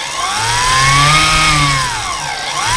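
A large RC boat's submarine motor revs under throttle, a loud close whine that rises, holds and dips, then climbs again, with no talk.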